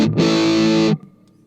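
A fuzzy, heavily distorted electric guitar chord played through an Affogato fuzz pedal with the mids scooped, ringing loud and steady for most of a second before it is cut off sharply and a quiet hum remains.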